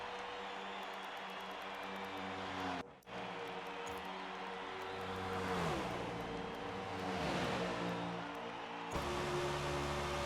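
A pack of race cars in a NASCAR racing game roars past on track, steady engine drone rising and falling as the cars swell closer, with a brief dropout midway and no talk.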